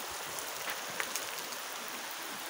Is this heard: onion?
no